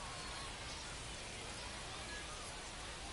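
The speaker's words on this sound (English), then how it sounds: "the rain has already restarted again outside my bedroom" Steady rain pours outside a bedroom window, a dense continuous hiss with no pauses, fairly loud and even throughout.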